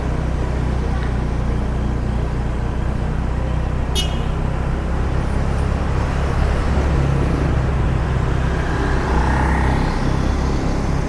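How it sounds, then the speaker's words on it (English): Congested street traffic near Kuta Beach in Bali, a dense, steady rumble of idling and crawling cars and motorbikes with a brief horn toot, loud and continuous outdoors with no talk. "it's a little bit of traffic jam here"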